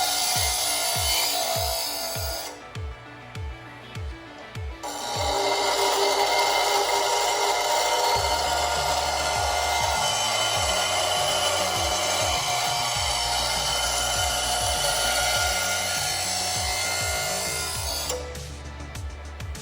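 Power tool working a prop dagger blade to smooth it, a loud whirring grind with repeated short strokes that give a rhythmic rubbing pattern, pausing briefly near the start and end.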